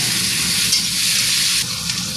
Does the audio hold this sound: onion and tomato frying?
yes